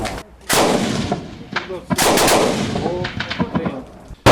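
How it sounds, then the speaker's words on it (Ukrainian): Loud gunshots crack in short bursts of two or three rounds, with echoing reports between volleys, close and harsh at an outdoor reservist training range. "Вогонь відсікаємо короткими чергами, по два-три по одному."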